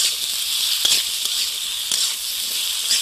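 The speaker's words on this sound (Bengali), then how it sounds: "ফেলবো এই তেলের মধ্যে আলুটাকে" Potatoes frying in hot salted oil for a Bengali gima shak dish: an even, close sizzling hiss with a few brief crackles, and no talking.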